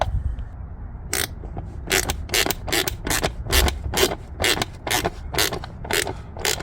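Small hex screw on a Mercedes S560 air filter cover being turned by hand, giving a steady series of short, close, crisp scraping clicks about every third of a second, with no talk.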